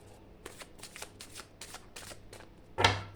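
Tarot cards being shuffled by hand, a run of quick riffling bursts in an uneven rhythm, close and fairly quiet, ending with one louder card slap.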